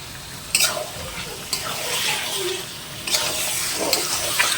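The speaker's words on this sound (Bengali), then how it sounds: "দিয়ে ভালো করে মাংসটাকে কষে নেব।" Mutton pieces being browned with spices in a pan for curry with potatoes give off a moist sizzle, with occasional clanks and scrapes from stirring, close and moderately loud.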